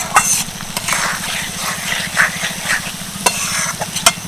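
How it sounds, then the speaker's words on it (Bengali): Close, steady sizzling of brinjal pickle in a pan with repeated scraping stirs of a spoon, and a low hum running underneath. "এই জন্য আমি হালকা হাতেই নাড়াচাড়া করছি"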